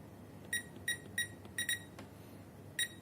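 A DSC WP8010-SP alarm panel gives a series of sharp, high electronic beeps while being armed, six short chirps spaced irregularly over a quiet background, close and clear.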